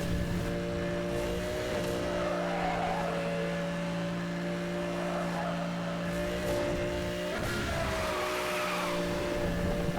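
Car engine droning steadily through a handbrake power slide in Need for Speed Hot Pursuit Remastered on Nintendo Switch, with tire skid noise swelling at moments over the continuous loud motor hum.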